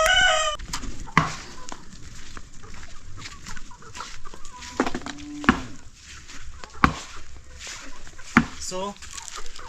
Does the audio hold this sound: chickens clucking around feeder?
yes